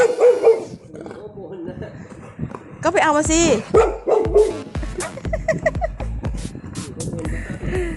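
A dog barks and yips several times in a home, mixed in with loud ongoing Thai conversation from a woman and others nearby.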